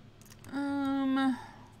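A telephone in The Sims 2 life-simulation game gives a single sustained electronic ring tone, clear and moderately loud against a quiet background, lasting under a second.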